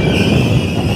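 A train rolls loudly and closely past a station platform, with a dense continuous rumble and a high steady squeal from the wheels, all within one brief second.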